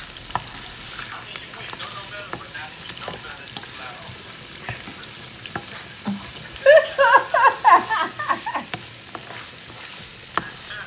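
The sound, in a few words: carrots and onions sautéing in meat fat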